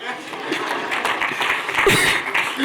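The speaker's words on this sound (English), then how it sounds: "And so you clap for me, right?" An audience at a student stories opening plenary claps briefly in a dense, moderate patter, with a voice speaking over it.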